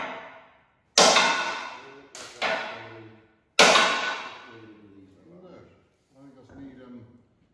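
A big hammer strikes metal on a Ford 5610 tractor in a workshop, three sharp ringing clangs with decaying metallic tails, followed by people talking.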